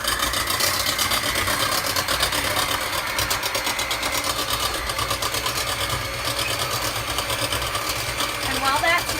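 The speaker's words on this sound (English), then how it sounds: "we're going to beat our shortening in our mixer" An electric stand mixer beats shortening for banana bread with a steady, whirring motor drone that runs unbroken and fairly loud throughout, under a voice talking.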